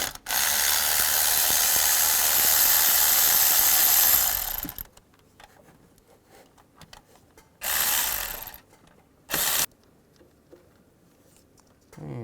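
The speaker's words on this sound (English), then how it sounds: "Use a 13mm socket and take the two bolts out that hold this valve on." A ratchet with a 13mm socket removes valve bolts on a 2002-2009 Chevrolet Trailblazer. Rapid clicking bursts come up close: a long run at the start, then two shorter runs separated by quiet pauses.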